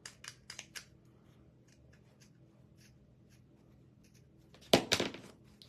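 Small scissors snipping at holiday decor material, a few quick faint cuts at the start and a louder cluster of close snips near the end, with quiet rustling between.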